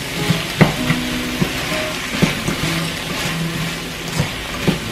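Okra (bhindi) stir-frying in a pan: a steady, close sizzle with scattered clinks and scrapes of stirring, alone without talk.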